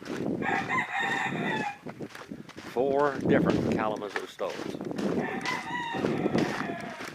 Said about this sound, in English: Chickens are glad to see me.